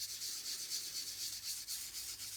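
A foam applicator dabs olive green ink onto paper edges in soft, quick, repeated rubbing strokes, close and quiet, with no voice present.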